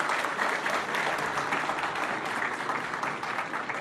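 An audience claps together in a continuous, even roar of hand claps that holds steady at moderate loudness and has no pauses.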